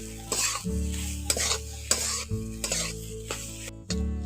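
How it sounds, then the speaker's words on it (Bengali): Potatoes and cauliflower stir-fried with pepper and salt in a pan for chop filling, a close, steady sizzle broken by repeated scraping strokes of a spatula at a brisk, uneven rhythm. "এই উপকরণগুলো দিয়ে একটু আলু আর ফুলকপিগুলোকে কষে নিচ্ছি"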